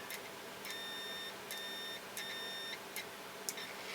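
An Innova 3320 auto-ranging multimeter sounds its continuity tester, giving four steady high-pitched electronic beeps of about half a second each with short gaps, clear over faint background hiss.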